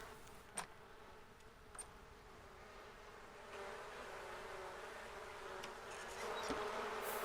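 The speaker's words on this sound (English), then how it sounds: "the bees are getting very angry" Angry bees buzz in a steady, faint drone from a backyard beehive in The Sims 4, the swarm swelling slightly louder toward the end with a few soft clicks, no talking.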